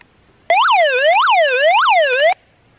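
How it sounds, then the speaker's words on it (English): A loud wailing alarm siren from an emergency hand-crank AM/FM NOAA weather radio, rising and falling in about three even sweeps for nearly two seconds before cutting off abruptly, with no talk. "If I push it now, there's going to be a really loud siren"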